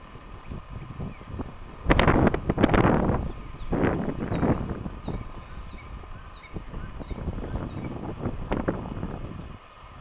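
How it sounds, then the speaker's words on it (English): Heavy wind blows in rough, roaring gusts against the microphone, with a strong surge around the two-to-three-second mark and steadier buffeting for the rest of the clip. "The heavy wind."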